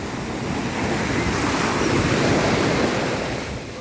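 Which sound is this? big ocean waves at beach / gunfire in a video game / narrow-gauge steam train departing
big ocean waves at beach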